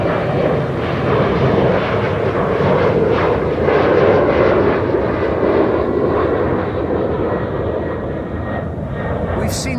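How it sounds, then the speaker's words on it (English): Embraer 190 jet airliner in DTM special livery at Amsterdam Schiphol Airport, a loud, close engine roar that stays strong throughout with pulsing swells, a voice talking over it. "We've seen this Embraer 190 several times before, quite regularly. It's the DTM, Deutsche Tourwagen Meisterschaft special livery."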